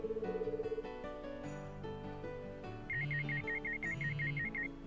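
A mobile phone ringing beside a pillow in a video game, a repeating electronic ringtone with a steady chiming melody over game music, with no talking.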